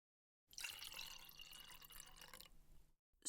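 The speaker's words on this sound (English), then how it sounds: "I could at least pour you some tea." Tea poured from a pot into a cup, a steady trickling splash lasting a couple of seconds, close and fairly quiet, ending abruptly.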